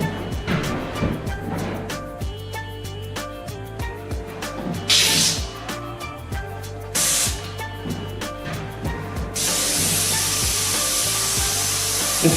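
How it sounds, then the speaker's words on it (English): Spray gun spraying in short hissing bursts between clattering work noises, then a long continuous loud hiss at the end, close up with no talk. "Me spraying it really quick."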